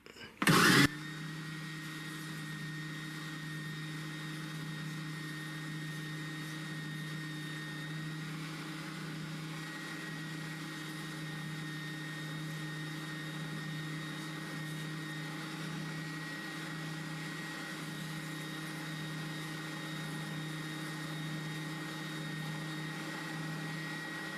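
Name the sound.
oscillating spindle sander deburring a metal pocket clip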